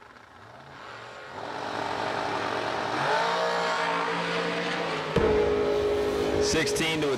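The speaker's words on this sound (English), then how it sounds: "Mike Hundley, 652, takes on the dragster of Chris Galetti" At a drag racing event, a dragster's engine builds with rising, whining tones, then bursts into a sudden, much louder roar late in the run, while an announcer talks over it.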